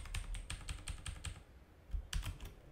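Fast, steady typing on a computer keyboard during a coding tutorial, a close run of crisp clicks, then a short pause before a few more keystrokes, with no talking.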